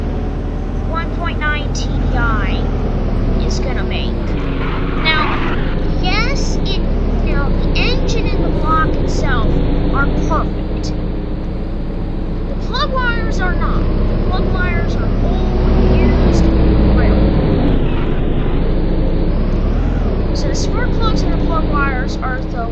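Volkswagen 1.9 TDI car engine running under load on a power test in the Roblox game, a steady droning hum held for the whole stretch, loud and close, with faint talk beneath it.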